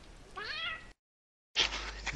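A cat meows in a drawn-out, wavering cry, then after a short silence lets out a second, harsher yowl, both close and fairly loud.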